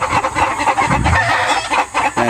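Several hens cluck and chatter loudly close by in a busy, overlapping stream of calls, with a brief crow-like call mixed in.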